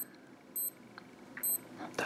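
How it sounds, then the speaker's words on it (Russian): Countdown timer end signal from a fishing wristwatch with a barometer: two short, bright electronic beeps about a second apart, close and clear over faint room noise, followed by a brief rustle. "при завершении вот этого обратного отчета будет сигнал"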